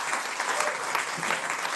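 Steady, dense crowd applause at a casual gathering, a continuous even wash of clapping with no break.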